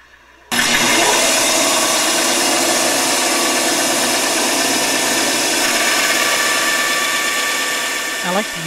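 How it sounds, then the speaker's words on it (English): A small bandsaw with a thin kerf blade rips spruce longerons, starting abruptly and holding a loud, steady whine with mechanical rattle for several seconds before easing slightly at the end. "I like to use a thin kerf saw blade on this small bandsaw in order to cut our longerons"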